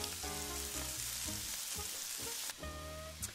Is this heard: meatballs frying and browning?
yes